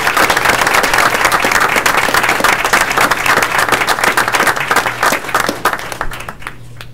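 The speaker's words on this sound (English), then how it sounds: "I'd like to get one more round of applause and ask the families to return to their seats" Loud, dense applause from the audience at a municipal committee meeting as honored families return to their seats, with many hands clapping steadily before it thins out and fades near the end.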